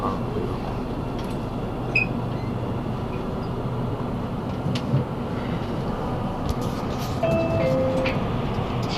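Broadband rumble of a subway train ride in China, a steady loud drone of the carriage rolling along with a few faint squeals and clanks, continuous throughout with no talking.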